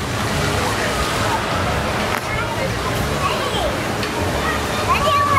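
Water is pumped and sloshes continuously at a playground water play area, a steady splashing rush with children's voices and chatter mixed in.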